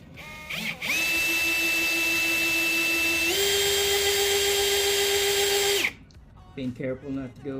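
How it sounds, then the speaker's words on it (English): A power drill pre-drilling holes in wood whines steadily for about five seconds, its pitch stepping up once midway, then stops, followed by someone speaking. "Now we're going to pre-drill our holes."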